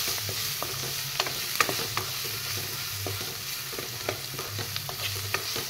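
Boiled potatoes stir-fried with spices in hot oil sizzle steadily up close, broken by repeated scraping and clacking of a spoon against the pan, with a low hum underneath.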